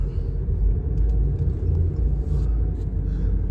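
A car rolls through a new housing development in Merida, Mexico, its low engine rumble and road noise steady and close from inside the cabin, without talk.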